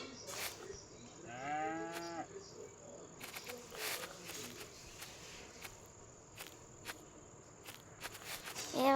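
A buffalo in a 3D driving video game gives a long low moo, followed by scattered clicks and footsteps over a constant insect chirring, with another moo starting at the end.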